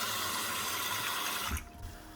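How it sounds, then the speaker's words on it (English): Dal lentils are rinsed in water, giving a steady rushing, sloshing wash that stops abruptly partway through and is followed by a few soft knocks. "So we basically rinse our dal."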